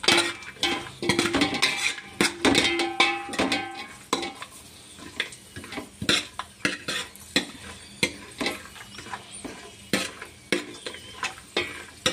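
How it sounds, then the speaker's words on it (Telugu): Almonds, cashews and raisins are stirred in a metal pan, with sharp clattering scrapes and clinks of the spoon coming in irregular bursts over a faint frying sizzle, close and without speech. "బాదం, జీడిపప్పు వేగినాయండి"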